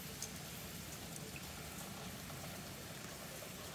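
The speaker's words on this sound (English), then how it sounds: "it raining." Steady, dense patter of rain, close and continuous with no pauses and no talking.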